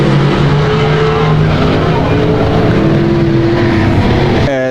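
Street stock cars race on a dirt oval, with loud, sustained engine roar and rising and falling revving as cars pass, and a commentator talking over it.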